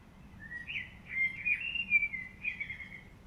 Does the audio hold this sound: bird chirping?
yes